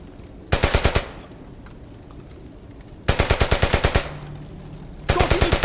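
Rapid automatic gunfire from the World War II video game Brothers in Arms: Hell's Highway, loud and close, arriving in three sustained bursts separated by short lulls.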